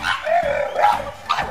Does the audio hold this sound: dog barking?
yes